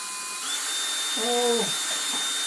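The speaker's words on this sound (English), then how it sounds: "I'm going to take my 9/64 drill bit, and I'm going to drill a hole in the front of that" Electric drill with a 9/64 bit boring into a stunt helmet shell, a high steady motor whine with a short rising-falling grind as the bit bites, heard close and alone.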